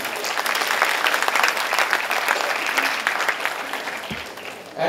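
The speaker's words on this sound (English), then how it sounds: "Now it is a time to give a big round of applause for our Atul Chauhanji, the president of IDEA" An audience applauds the president of an association at a formal event with a loud, steady burst of clapping throughout that continues to the end.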